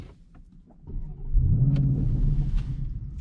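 A 2021 Porsche Cayenne GTS engine idles quietly, then swells into a loud, deep rev that holds and rumbles close by, with a few faint clicks around it.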